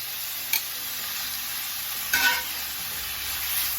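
Diced onion fries with beef in a pan for Philly cheesesteaks, a steady close sizzle broken by two brief scraping stirs, with no voices.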